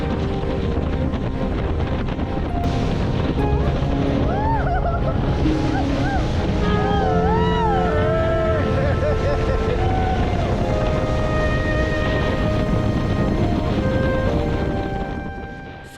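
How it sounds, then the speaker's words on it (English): A motorboat speeds across a river or lake near Munnar, its engine drone steady and loud throughout with water rushing and splashing against the hull, wind buffeting the microphone, and faint voices in the background. "The boat was gliding on the water surface, honoring our captain's orders."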